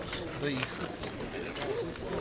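Soft pigeon coos murmur in the background over a steady, noisy outdoor fair ambience, with a few muffled voices nearby.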